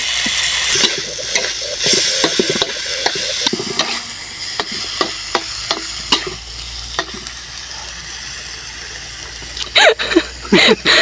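Frog meat stir-frying in a hot pan with ginger, kaffir lime leaves, pea eggplants, chilies and pepper, loud sizzling broken by repeated sharp scraping strokes of a spatula, ending in a flurry of quick clanks.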